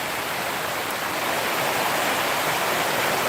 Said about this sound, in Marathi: सर्वदूर असा पाऊस पडताना दिसतो आपल्याला